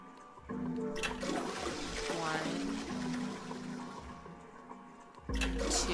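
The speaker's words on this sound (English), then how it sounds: "flush the toilet those number of times" A toilet flushes in the Zero Escape video game, a steady rushing and gurgling of water that lasts several seconds. A louder burst of sound comes near the end.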